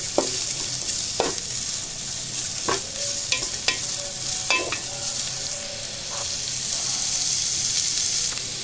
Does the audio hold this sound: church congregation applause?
no